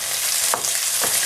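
A large onion fries lightly in oil with a bright, steady sizzle, broken by two quick scraping strokes of a spoon across the pan, close and fairly loud.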